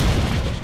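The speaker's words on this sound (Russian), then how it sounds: "Сука, граната!" Heavy grenade explosion in the video game STALKER, a brief, loud, deep booming rumble.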